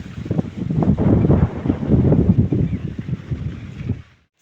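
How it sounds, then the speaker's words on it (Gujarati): Strong wind buffets the microphone on a farm, roaring in loud uneven gusts for about four seconds before cutting off suddenly. "અત્યારે પવન બહુ અહીંયા"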